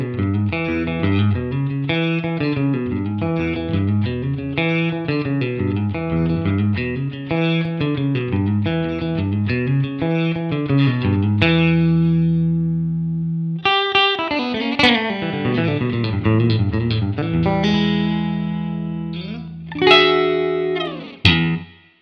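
An electric guitar strung with heavy-gauge strings, played on the middle pickup position, runs through repeated riffs and then bent, ringing notes and chords, with distortion and chorus coloring and no talking.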